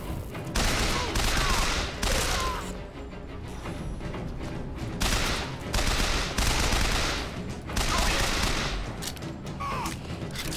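A machine gun fired in Bioshock Infinite, with repeated loud sustained bursts of rapid shots separated by short pauses and a steady background rumble throughout.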